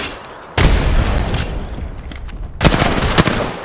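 Two heavy blasts from a frag grenade in Apex Legends, the first sudden and loud, the second a couple of seconds later, each followed by a rumbling tail.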